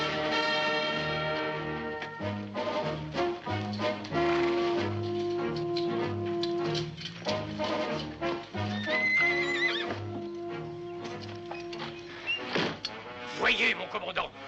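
A saddled horse gives loud, prominent neighs and whinnies alongside clip-clopping hooves, mixed with dramatic orchestral music in a black-and-white Zorro television episode.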